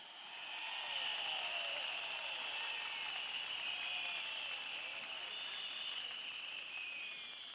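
Applause from a rally crowd of volunteers in Thailand, a steady, dense wash of clapping that holds evenly for several seconds, with a faint tone running beneath it.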